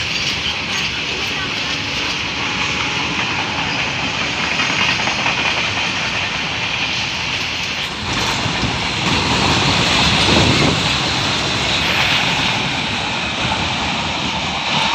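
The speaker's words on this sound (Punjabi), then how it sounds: "ਚਲੋ ਇਹ ਟ੍ਰੇਨ ਲੰਘ ਗਈ" A train bound for Bathinda rolls through a village railway station, making a loud, continuous, close rumble and roar that swells slightly midway, with voices faintly underneath.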